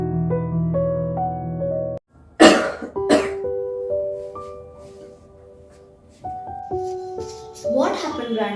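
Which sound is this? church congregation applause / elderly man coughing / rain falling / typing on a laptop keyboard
elderly man coughing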